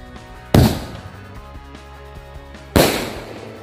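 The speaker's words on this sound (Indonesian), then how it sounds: "yang selanjutnya kita nyalain mercon keras sakti nih guys" Two sharp, loud firecracker blasts go off about two seconds apart from a drink can, each followed by a short ringing decay. A faint musical hum runs underneath.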